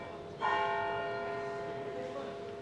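A church bell in Soho Square strikes once with a bright, clear onset, then its rich ringing tone lingers and slowly decays over a faint outdoor background.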